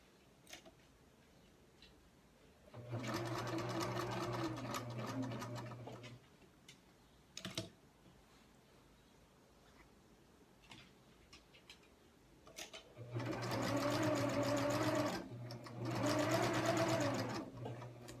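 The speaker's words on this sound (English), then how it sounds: "just continue as the same all around the edge of the bag and you're set for machine sewing" A sewing machine stitches around the edge of a tote bag in two runs of steady, close mechanical whirring, each several seconds long, separated by quiet pauses with faint handling clicks.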